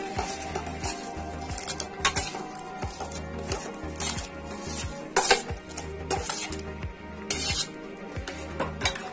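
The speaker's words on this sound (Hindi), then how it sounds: "आइए इसमें हम अपने चावल को डाल देते हैं।" Rice patters and clinks into a pot over a bubbling, rumbling boil, with scattered metallic taps from a utensil.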